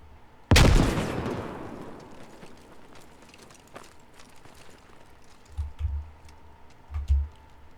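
A frag grenade bursts in a military shooter game with a single loud, sharp blast that rings out and decays slowly over several seconds, followed later by a couple of dull low thumps in the distance.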